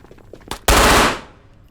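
A loud, rapid burst of paintball gun fire in the shooter game Ghosts of Tabor, a dense rattling volley lasting about half a second after a faint single pop, set against quiet in-game ambience.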